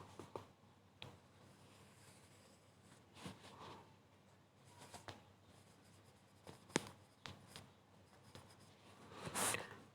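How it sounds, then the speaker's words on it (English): Writing on a board in a classroom, faint scattered scratches and taps of the marker or chalk strokes, quiet and intermittent with a slightly louder squeak near the end. "Here I am writing sampler."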